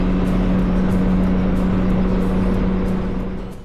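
A Deuce and a Half military truck cruises at about 38 mph on a throttle cable, giving a loud, steady engine drone with a constant low hum and road roar that fades slightly at the end.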